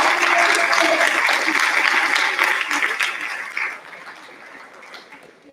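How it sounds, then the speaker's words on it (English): An audience at a school reunion gathering gives sustained applause, loud and dense at first, then thinning and fading out toward the end. "how about you stand up and we give you a nice clap"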